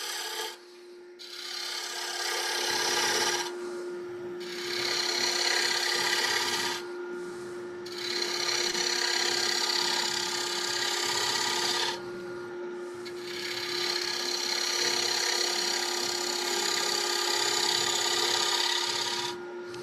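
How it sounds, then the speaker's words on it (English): Scraper cutting a wooden bowl spinning on a lathe, a loud raspy scraping that comes in long passes of a few seconds each with brief pauses between them, over a steady motor hum, close and without talk. "I tend to pull out the scraper when it comes time to like finesse the shape."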